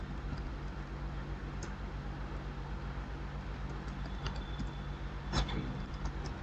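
Quiet, intermittent clicks of computer keyboard typing while code is written, faint and scattered over a steady background hiss, with a slightly louder burst of keystrokes toward the end.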